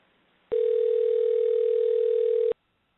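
Telephone tone heard while calling a cell phone, a single steady electronic beep held for about two seconds after a short quiet stretch, then silence.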